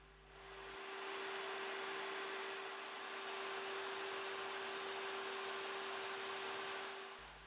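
A drill spins a hand plane's adjuster knob on a mandrel while it is polished with 1500 grit paper, giving a steady, faint whirring hum with a constant tone that starts and stops cleanly.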